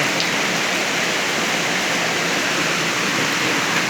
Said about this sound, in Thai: ฝนตกแล้วครับ วันนี้ทั้งวันเลย